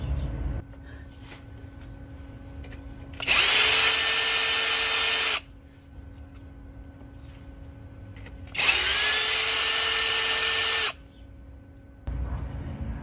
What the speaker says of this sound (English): I'm so glad I have a drill.